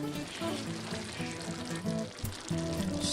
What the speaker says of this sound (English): that simmer sizzle you see, that's with the heat off